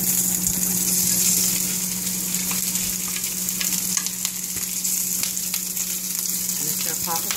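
Sausage sizzles and crackles steadily in a hot pan with extra virgin olive oil, with occasional sharp pops rising above the constant frying hiss.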